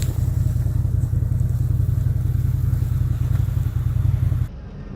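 A CFMOTO ZFORCE 800 EX side-by-side drives along an icy winter road, its engine droning loud and steady close by before dropping off abruptly near the end.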